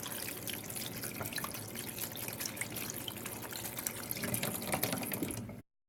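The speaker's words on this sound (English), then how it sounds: "we're going to rinse our pasta with cool water to stop the cooking process" Cool tap water pours steadily over cooked pasta being rinsed for smoked Gouda mac and cheese, a continuous close splashing rush that runs for several seconds before cutting off abruptly.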